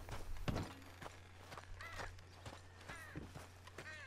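Horse hooves clip-clop in Red Dead Redemption 2, a few quiet, irregular hoofbeats of a horse being walked to a stop, over a low steady hum.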